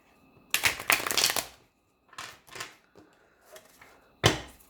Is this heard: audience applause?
no